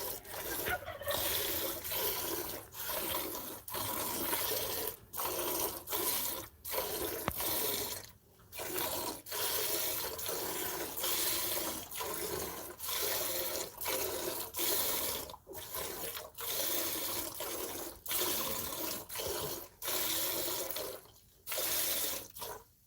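Milk streams by hand from a cow's udder into a pail on a farm on Christmas Eve, a steady wet spraying hiss in rapid pulses with brief pauses between strokes, close and continuous, with no talking.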